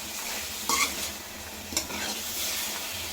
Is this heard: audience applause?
no